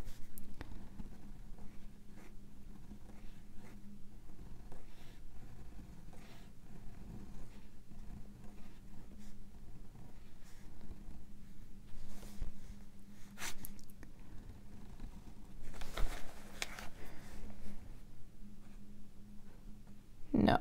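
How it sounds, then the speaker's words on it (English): A Noodler's Triple Tail flex fountain pen scratches faintly across paper in short strokes and pauses, soft and close, with light breathing and small handling noises. "Apparently I cannot look into the camera and write at the same time."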